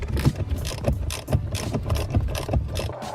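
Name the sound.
undoing 5.5mm airbag bolts on a steering wheel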